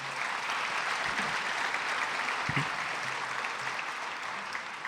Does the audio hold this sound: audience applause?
yes